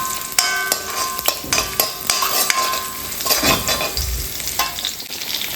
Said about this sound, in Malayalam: അത് നമുക്ക് നന്നായിട്ടൊന്ന് ഫ്രൈ ചെയ്തെടുക്കാം.